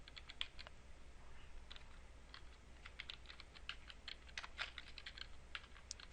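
Steady typing on a computer keyboard while a search term is entered, with quick irregular bursts of key clicks running throughout over a low constant hum, close and moderately quiet with no voices.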